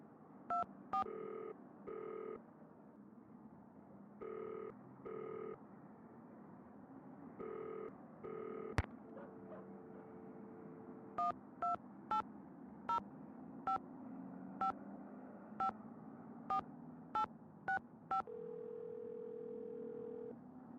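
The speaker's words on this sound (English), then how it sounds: "A lot of buttons to push just to call people." Phone number punched in on a telephone keypad in a Nancy Drew mystery game: a dial tone followed by a long run of short electronic touch-tone beeps, first in quick pairs, then spaced singly, ending in a steady tone.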